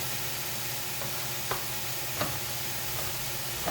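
Green beans dropped into a cooking pot with potatoes, giving a steady sizzling, bubbling hiss with a few soft clinks and taps from the beans landing, continuous and moderately quiet.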